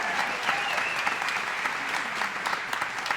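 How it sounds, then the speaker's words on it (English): Audience applause fills a civic hall at a city's State of the City address, a steady dense clapping from a large crowd, close and sustained with no break. "if you're going to be dispensing applause all around"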